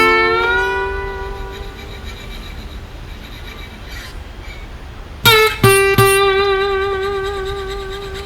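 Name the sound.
Eastman parlor acoustic guitar with Waves J37 tape distortion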